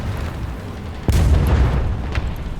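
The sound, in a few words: 4,000-pound bomb from a Wellington exploding, War Thunder video game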